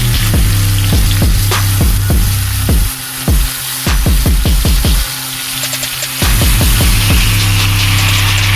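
Chopped tomatoes dropped into hot sesame oil for Kerala-style tomato pickle give a loud, continuous sizzle. Repeated scraping strokes from stirring run through it, with a brief dip in the frying noise partway.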